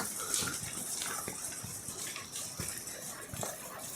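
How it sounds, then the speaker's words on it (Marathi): Faint, continuous rush of water falling from Rajgad hill fort, a broad hiss, steady throughout and somewhat distant, with a few soft knocks but no speech. "हे इकडे गडावरतून पाणी पडते तुम्हाला आवाज येत असेल पाण्याचा"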